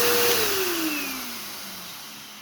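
A Bissell PowerGroom Multi-Cyclonic 92L3-W vacuum cleaner with a bulging filter gives a loud motor whine that drops in pitch and fades as it spins down.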